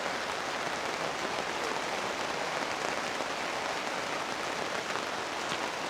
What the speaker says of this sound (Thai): บรรยากาศข้างบนก็จะประมาณนี้ค่ะ ก็มีฝนตก